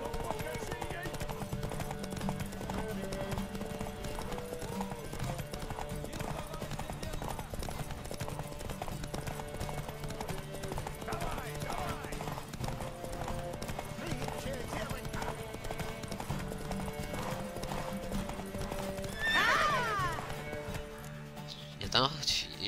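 Steady clip-clop of a horse galloping in The Witcher 3, a rapid, even hoofbeat rhythm running throughout, with a sharp whinny near the end and a few thuds after it.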